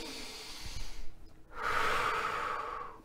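One slow, deep breath taken during a guided relaxation: a soft airy inhale through the nose, a brief pause, then a long, louder breathy exhale, close and alone.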